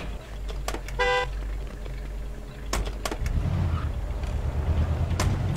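Car driving in the Mafia 2 video game, with a steady engine rumble and a short burst of horn toots near the start, then more engine noise and clicks as the car moves on.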